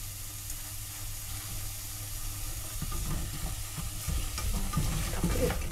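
A pot on the stove hisses and sizzles as a little water is stir-fried before beef goes in for Korean yukgaejang broth, a steady broadband hiss with clattering utensil scrapes growing busier toward the end.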